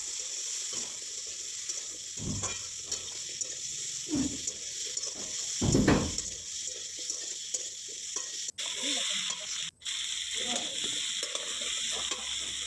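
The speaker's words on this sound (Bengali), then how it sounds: "দিয়ে সেগুলোকে ভালোভাবে ভাজা করতে থাকবো" Potatoes frying in a pan, sizzling steadily and close, with intermittent stirring scrapes and a couple of louder clatters; no talking.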